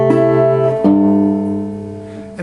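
An acoustic guitar is fingerpicked, a few plucked notes ringing and sustaining in a gentle pattern, close and clear.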